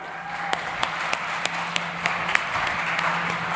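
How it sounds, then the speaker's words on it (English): An audience at a startup summit stage applauds to welcome a session moderator, with a sustained crowd clap carrying distinct sharp individual claps that ring out at intervals over a reverberant room. "I would love you to give her a very big round of applause."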